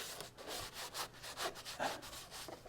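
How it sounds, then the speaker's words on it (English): Stiff coarse brush scrubbing a surface loosened by automotive degreaser, a steady close rasping friction in repeated back-and-forth strokes with no talking. "So I'm going to take the coarser brush, and you can hear it."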